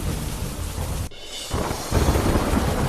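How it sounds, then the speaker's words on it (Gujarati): Heavy downpour with thunder in Narmadapuram, Madhya Pradesh: dense, loud rain hiss throughout, broken by a sudden sharp crack and followed by a deep rumbling roll as the rain swells again. "મધ્યપ્રદેશના નર્મદાપુરમમાં ધોધમાર વરસાદ"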